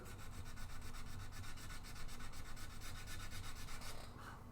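Sandpaper rubs back and forth over a wooden guitar part in a steady, rapid rasping rhythm, close and fairly loud, easing off near the end.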